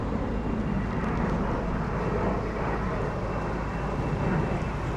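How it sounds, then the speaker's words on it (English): A loud airplane passes over North Sheen, London, on its approach to Heathrow Airport, a steady broad roar that fills the whole stretch without pause. "That plane is bare loud, yeah. It's very loud when it lands."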